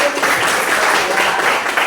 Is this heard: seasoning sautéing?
no